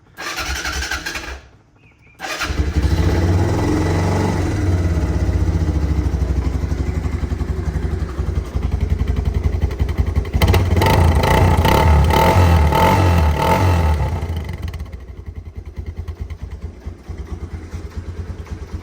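A 1987 Kawasaki Bayou 185 ATV engine runs loud and steady at close range, stumbles and briefly dies near the start, restarts and keeps running, with a rougher revving stretch midway before it settles and fades lower.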